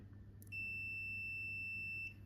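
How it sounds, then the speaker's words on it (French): A single steady electronic continuity-test beep from a multimeter, high and clear, lasting about a second and a half over a low background hum. "Si ça bip, ça veut dire que j'ai une bonne continuité, que mon multimètre fonctionne."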